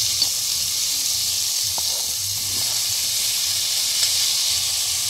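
Chopped tomatoes being sautéed with green chillies for mutton paya (goat trotter curry), a steady soft sizzling hiss carrying on alone throughout, with a few faint clinks.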